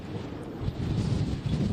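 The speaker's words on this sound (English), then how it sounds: "we're right near Santa Monica as these winds pick up and howl again" Powerful gusts of up to 50 to 100 mph blow near Santa Monica, a low rumbling wind buffeting the microphone steadily and loudly, swelling slightly toward the end, with no voices.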